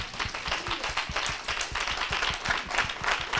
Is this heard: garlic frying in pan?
no